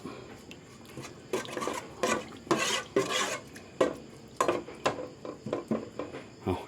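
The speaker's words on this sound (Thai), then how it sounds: "เอามาตีกะทิให้แตก ออกเหลือง" Coconut cream for beef-skin panang curry is stirred in a pot so the oil splits, giving repeated scraping and clinking strokes of a utensil against the pot over a low bubbling sizzle.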